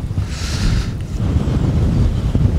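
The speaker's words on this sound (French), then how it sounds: "Alors il y a peut-être un peu de vent, hein, parce qu'il y a pas mal de vent." Strong wind sweeps across a large farm in the open, buffeting the microphone with a continuous, loud rushing roar that swells and dips slightly.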